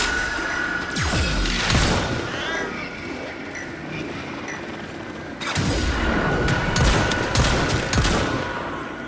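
Bursts of automatic gunfire and impacts fill a Warframe firefight, loud rapid volleys broken by a brief lull before the shooting resumes.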